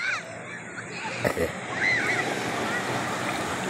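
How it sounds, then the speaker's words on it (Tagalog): Strong ocean waves wash and hiss in a broad steady roar at a Real Quezon shore, with a brief thump partway through; faint voices blend into the surf. "Wow, ang lakas ang alon"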